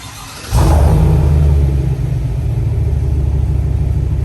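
A Chevrolet Trail Boss truck fires up from a semi-cold start with no exhaust tips fitted: a half second of quiet, then a sudden catch into a loud, deep rumbling idle that stays steady and close, with an air conditioner running nearby.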